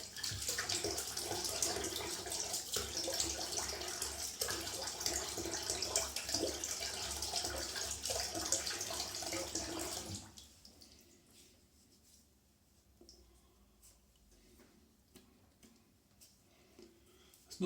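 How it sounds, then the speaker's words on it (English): A water tap runs loudly and steadily while someone rinses off after shaving, then shuts off, leaving quiet drips and small movements near a sink. "let's have a bit of a rinse off."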